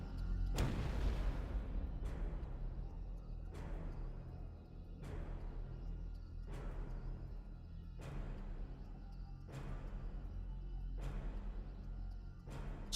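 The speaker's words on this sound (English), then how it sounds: "Suddenly, a boom as loud as cannon fire shook the area." Deep booms like cannon fire sound roughly every one and a half seconds, each a loud low thud with a short decaying tail over a rumbling background, used as a story sound effect.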